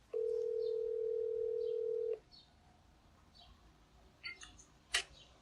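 A steady telephone tone sounds alone for about two seconds on a call, then cuts off, leaving quiet room noise with a few faint clicks and a brief sharp noise near the end.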